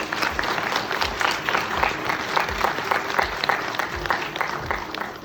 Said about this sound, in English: This really deserves a big round of applause